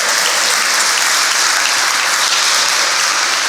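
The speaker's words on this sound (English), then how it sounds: "Yeah, we can clap." Steady audience applause fills the room at a construction-technology showcase, dense and continuous clapping from a crowd celebrating the completion of a first 3D print, with no voices standing out.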